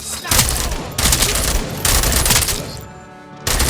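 Loud volleys of gunfire crack out in repeated bursts in the RoboCop game, a dense fusillade of shots separated by brief lulls.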